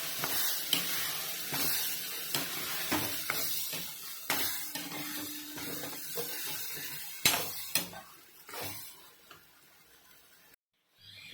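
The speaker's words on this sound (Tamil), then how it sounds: "தக்காளி ஊற்றி சேர்த்துக்கலாம். இதையும் நல்லா வதக்கணும்." Tomatoes sautéing in a pan for a paneer and pea butter masala, giving a steady low sizzle broken by scraping spatula strokes and a few sharp clinks, fairly close, before a brief silence at the end.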